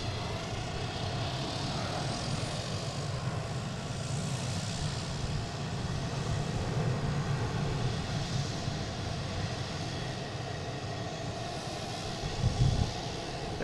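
American Airlines jet, an E175 bound for LaGuardia, taking off on runway 9 at Boston Logan, a sustained roaring engine rumble heard from a distance, steady and broad throughout.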